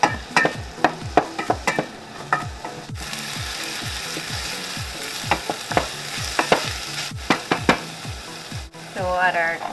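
Vegetables for a vegan moussaka are stirred in a frying pan, giving a steady run of sharp spoon-on-pan scrapes and clinks over a soft sizzle, close up, with a brief pause partway.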